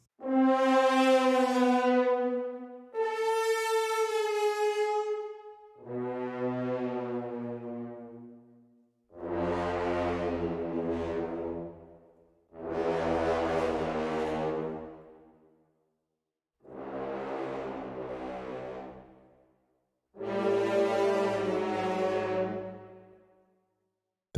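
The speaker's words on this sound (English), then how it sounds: "we will be starting with the 12 horns doing bands" Twelve horns playing together in a brass bends patch from the Talos library sound seven long sustained notes, each swelling and sliding in pitch, separated by short silences, with no talk.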